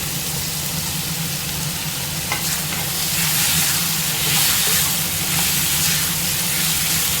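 Jackfruit seeds added to sautéed tomatoes and stirred as they fry, giving a dense steady hiss of sizzling with faint stirring scrapes, close and continuous.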